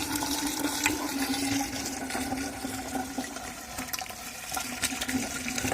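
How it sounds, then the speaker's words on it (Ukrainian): Hot water from a gas water heater rushing steadily into a clogged kitchen sink drain, a continuous gurgling flow with a low hum underneath. "вода йде на всю, стільки колонка пропускає, гаряча вода"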